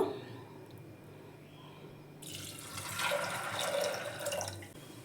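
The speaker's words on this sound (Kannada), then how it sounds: "ಇದಕ್ಕೆ ಸ್ವಲ್ಪ ನೀರು ಸೇರಿಸ್ಕೊಳ್ಳೋಣ ಬೇಯೋಕ್ಕೆ." Water pouring into a pressure cooker pot for chickpea-pod rasam, beginning abruptly after a quiet stretch and running as a close, bright gush for about two and a half seconds before stopping.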